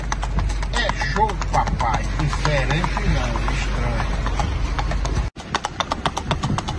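A registered marcha picada stallion, 51 months old, walks in its gait, with rapid, steady hoof clip-clops close by and talking running throughout; a brief dropout interrupts near the end before the hoofbeats resume.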